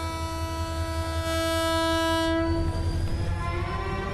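A departing train sounds a loud sustained horn for about two and a half seconds over a heavy rumble of rolling stock and clattering wheels, and the rumble carries on after the horn stops.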